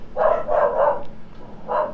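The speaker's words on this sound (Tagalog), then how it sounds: "Yung aso namin" A pet dog barks indoors at night: a quick run of three sharp barks, a pause, then one more bark, fairly close and clear.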